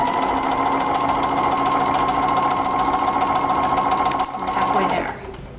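A sewing machine runs steadily while stitching a rolled hem on fabric, a continuous fast whirring hum with a rapid mechanical pulse, slowing and stopping near the end.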